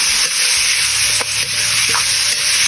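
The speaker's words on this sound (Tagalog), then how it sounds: "Ilagay yung bawang, sibuyas, at ilagay na natin ang ating pork. Papakagisa lang natin ito" Pork with garlic and onion sautéing in a hot pan, a steady loud sizzle with occasional stirring scrapes throughout, close up and without voices.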